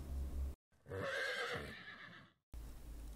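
A horse neighs on a farm in one long, loud whinny with a shaky, descending pitch, set between short gaps of silence.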